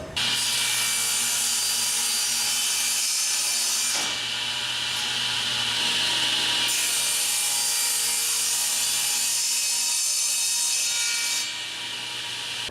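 Two wooden legs for a dining room table are cut together on a saw run against a fence. The blade gives a loud, steady, close-up whine through the wood that shifts slightly partway through, with no voices.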